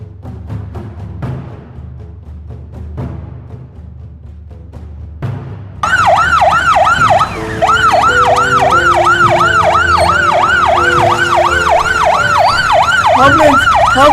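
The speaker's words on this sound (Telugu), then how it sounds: "అంబులెన్స్ అంబులెన్స్ అంబులెన్స్ ఆపండి సార్" Loud ambulance siren wails in a fast, steady up-and-down cycle close by, cutting in abruptly after several seconds of quieter street ambience with faint voices and traffic, and continuing to the end.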